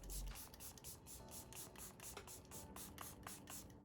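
A hydrating makeup setting spray misted onto the face in a series of quick, soft bursts, close and fairly quiet, repeating rhythmically throughout with faint rubbing in the background.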